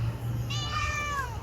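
A single cat gives one drawn-out meow near a tall trash bin, rising then falling, over a low steady background hum.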